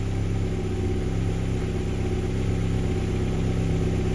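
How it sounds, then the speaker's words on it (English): An Opel/Vauxhall C20XE car engine idles steadily, a constant low hum and drone with no change in pitch, close and continuous throughout. "The engine's been on now for about 5 minutes"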